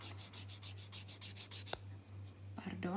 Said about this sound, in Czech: A teďka budu brousit takhle ze spodu.